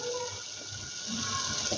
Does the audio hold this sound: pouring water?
yes